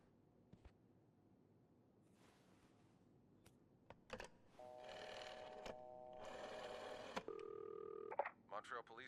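Telephone dialing in the video game This Bed We Made: a few clicking button presses, then sustained dial tones, with a short ring-like tone near the end over quiet background hum.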